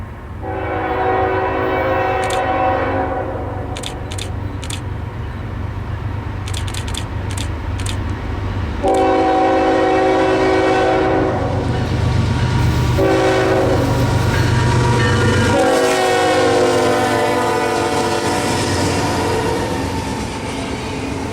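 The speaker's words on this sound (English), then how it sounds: "Norfolk Southern's Monongahela Heritage Unit was on the point of Train 23N out of Jacksonville." Norfolk Southern freight train 23N out of Jacksonville, led by the Monongahela Heritage Unit locomotive, passes south of Atlanta in winter, its loud horn sounding in long sustained blasts over a steady rumble of engines and rolling cars.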